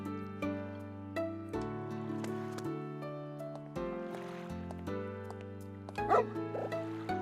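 Dog Princess barking in the video game Another Code: R, a few short yips over a steady sustained music backdrop, without talk.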